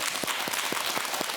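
A television morning-show studio audience gives a short burst of steady clapping, dense and even throughout, with no voices over it.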